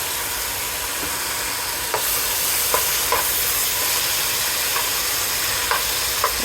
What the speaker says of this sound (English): I'm gonna add the tomatoes first, and then I'll add the vegetable broth.